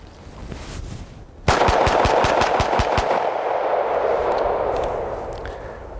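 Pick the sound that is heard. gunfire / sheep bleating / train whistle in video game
gunfire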